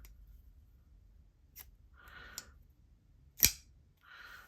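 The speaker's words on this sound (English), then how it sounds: "You hear that like sort of double click clunk?" A Spyderco folding knife is worked open and shut, giving a few sparse, sharp clicks and a louder clunk amid soft scraping rustles in an otherwise quiet room.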